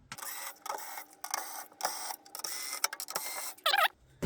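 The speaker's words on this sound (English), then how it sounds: "So I'm just going to take the screws out." Small screws being backed out of the metal drive rails of a homemade six-bay NAS case, a series of brief close mechanical scrapes and clicks separated by short pauses, with a sharper metallic rattle near the end.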